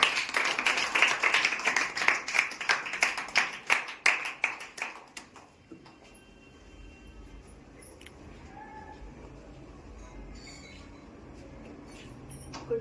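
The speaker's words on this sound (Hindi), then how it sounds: "तो मनीषा के लिए जोरदार तालियां।" School farewell and inauguration audience claps in a rhythmic, fairly loud burst for about five seconds, then the applause stops abruptly, leaving a quiet room with faint scattered noises.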